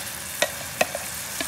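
Mango pulp stirred in hot ghee for payasam, a soft steady sizzle with three or four brief scraping stirs of a spoon against the pan, close and fairly quiet.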